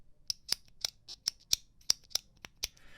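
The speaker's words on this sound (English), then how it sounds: "when I pulled the titanium version out of the box and clicked it, it's just a little bit scratchy" A titanium Tactile Turn Anso click pen clicked about a dozen times in an uneven rhythm, each click sharp, close and slightly scratchy, alone with no talking.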